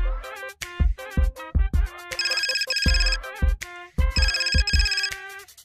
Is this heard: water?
no